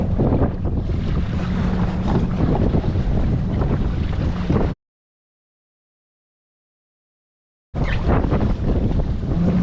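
A sailing dinghy moves through open water in wind, with a loud, steady rush of wind across the microphone and splashing water, cut by a few seconds of total silence before the rush returns.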